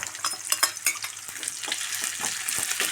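Green chili, garlic, ginger and curry leaves fry in hot oil with a steady close sizzle, broken by quick scrapes and taps of a spoon stirring the pan.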